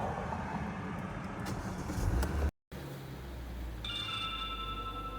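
A car engine cranks and fires up after an at-home oil change, settling into a steady close idle after a brief dropout, with a faint high whine entering near the end.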